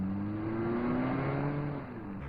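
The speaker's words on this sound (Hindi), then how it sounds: "ए मार्गो, जरा जल्दी गाड़ी चला" A car engine runs steadily at speed in an action movie, a continuous close hum with faint revving that drops slightly near the end, no voices over it.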